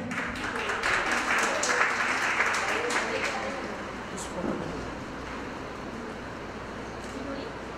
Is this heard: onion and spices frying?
no